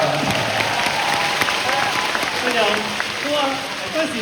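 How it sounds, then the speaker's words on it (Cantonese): An audience claps steadily in a hall, a dense wash of applause running throughout while someone talks over it. "掌聲俾我老婆"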